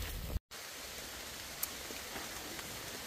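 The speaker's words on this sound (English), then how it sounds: "It is raining" Steady rain falls through the trees onto a forest trail on the Appalachian Trail, a continuous soft hiss of drops at close range with no talking.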